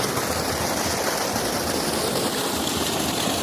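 Flowing water at a waterfall in Monkayo, Davao de Oro, a dense, steady rushing roar that fills the scene without pause, close and fairly loud, with no voices.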